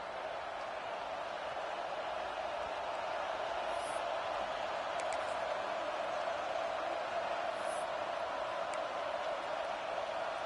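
Stadium crowd noise at an Alabama football game on a third down, a dense, sustained roar of many voices, far-off and steady with no letup.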